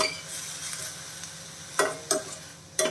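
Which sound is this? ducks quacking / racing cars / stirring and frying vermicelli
stirring and frying vermicelli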